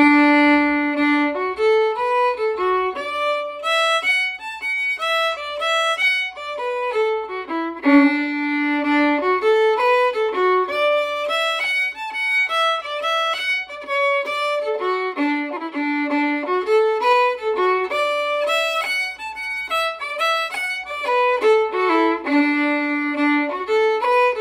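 A solo melody line plays the first part of a double jig in a steady lilting triple rhythm, clear and close with no talking.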